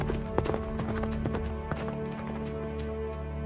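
Horses gallop while pulling a chariot, their hooves giving a busy, fairly close clip-clop rhythm of repeated sharp knocks over a steady background, with no voices.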